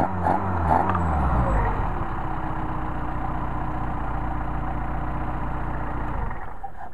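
Hot-restarted Mercedes 190SL engine fitted with Solex carburetors, a brief rough catch and rev at the start before settling into a steady, even, close idle that cuts off near the end.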